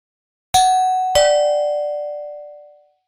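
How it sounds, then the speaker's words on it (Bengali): A doorbell rings twice in close succession, each clear bell tone sustaining and slowly fading out in a quiet room with no voices. "কলিং বেল দিল এই সময়? কে আসলো?"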